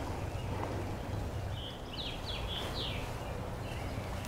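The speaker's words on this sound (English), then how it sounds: "I hope you guys can hear the birds during these videos and listen to them chirping and being happy" Birds chirp in a suburban garden in mid-May, with a few short, fairly faint high calls in the middle of the clip over steady outdoor background hiss.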